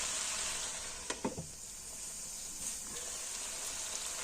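Tomatoes and jackfruit pieces sizzle steadily in a hot pan for a jackfruit curry, with a few sharp scraping knocks of a spoon as the mixture is stirred, close and continuous with no talking.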